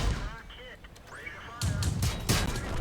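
Artillery fire in World of Tanks, heavy booming shots that start partway through and keep rumbling to the end, with voice chatter underneath.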